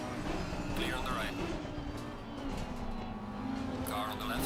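A car in a racing video game sweeping past on the left, its engine note rising and falling across a steady roar of other motors, with someone talking over it.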